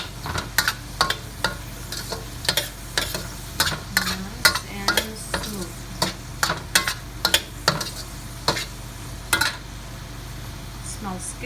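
Ginger going into a hot pan while string beans with pork cook, sounding as a close run of sharp clicks and scrapes over a low sizzle, irregular and frequent throughout.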